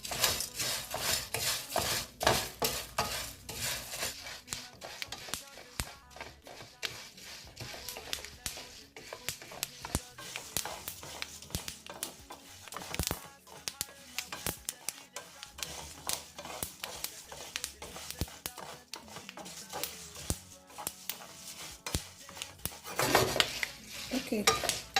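Egusi seeds being stirred as they toast in a pot for Nigerian egusi soup, a steady run of scraping and clinking of utensil against pot lasting throughout, close and fairly loud with no talking.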